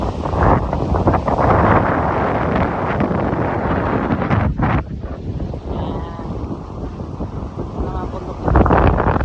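Strong wind buffets the microphone at Waterton Lakes in Alberta, a steady loud rumbling roar that dips briefly midway and surges again at the end, with a voice speaking under it.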